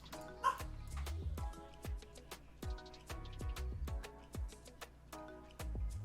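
A small dog gives short yips and whimpers indoors, several quick high yelps scattered across the clip, fairly quiet, with faint background noise.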